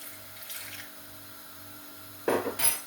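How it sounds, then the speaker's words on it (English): Water poured into a pan of jackfruit masala, about 20 ml, makes a short splashing burst late on, following a quiet stretch of soft kitchen background hum. "With the jackfruit in there, I'm going to put about 20 ml of water."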